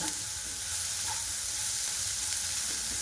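Vegetables for hakka noodles stir-fry over a high flame, a dense, continuous loud sizzle and hiss filling the whole stretch with no talking.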